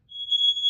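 A newly installed, interconnected smoke alarm being tested lets out a single shrill, steady high-pitched tone that begins at once and holds clear and close, with nothing else heard.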